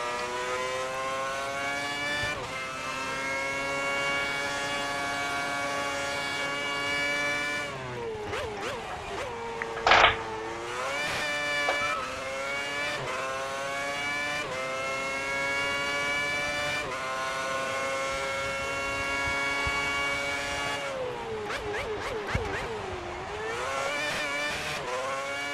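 A Formula 1 car from the game F1 2010, running a 2009-season mod at Bahrain, screams at high revs. Its engine pitch climbs and drops repeatedly through gear changes and throttle bursts, loud and continuous, with no talk.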